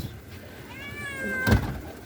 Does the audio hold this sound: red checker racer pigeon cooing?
no